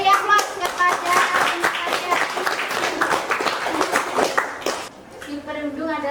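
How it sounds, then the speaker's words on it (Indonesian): Applause from a school class audience, many hands clapping densely and steadily for about five seconds, then fading into a quieter tail with a voice speaking. "Beri aplaus kepada"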